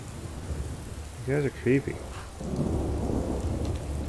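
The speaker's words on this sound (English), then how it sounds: "See if the storm passes." Steady rain and rumbling thunder from a storm in the video game Skyrim fill the scene as a continuous wash, with a brief spoken line partway through.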